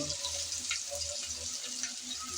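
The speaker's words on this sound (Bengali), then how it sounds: "গরম তেলে দিয়ে দিলাম পেঁয়াজ কুচি" Chopped onions dropped into hot oil with bay leaves crackle and sizzle in a soft, continuous wash of hiss broken by small popping bursts, heard fairly close with no talking.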